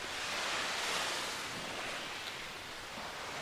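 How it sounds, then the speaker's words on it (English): Sea waves wash in a video game ambience as a steady, soft broadband surf hiss with a gentle rise and fall and no other sounds over it. "now I get to hear the lovely sounds of the sea, no matter where I go"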